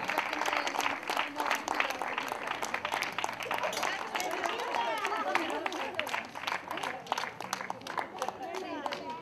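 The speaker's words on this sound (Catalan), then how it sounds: "Fort aplaudiment per ella." Sustained applause from a crowd at the prize ceremony of a women's 5-mile road race in Valldoreix, steady clapping filling the whole stretch with voices mixed in.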